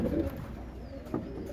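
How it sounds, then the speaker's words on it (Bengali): A Kalanch pigeon coos in low, soft, rolling tones, steady and close for a brief moment with no voices. "এটা একটা কালাঞ্চ পায়রা"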